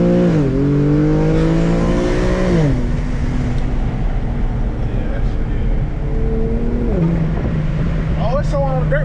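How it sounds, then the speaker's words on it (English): A dirt bike nearby revs its engine hard, the pitch climbing and dropping in several loud surges, with voices talking over it. "it's someone on a dirt bike hitting the wheel"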